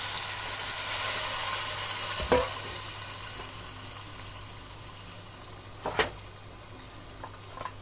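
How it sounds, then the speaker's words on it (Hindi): Aloo gosht with potatoes and spices sizzling in a pot as a glass of water goes in, a hissing fry that eases off, punctuated by a couple of sharp utensil knocks. "अब इसमें मैं 1 गिलास पानी का शामिल कर लूंगी।"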